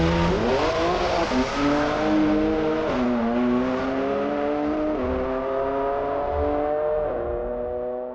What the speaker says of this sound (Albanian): Energji e zhurmë motorësh